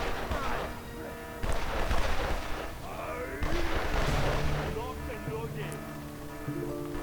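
Gunfire in the strategy game Evil Genius comes as several bursts of shots and crashes, with someone talking over much of it.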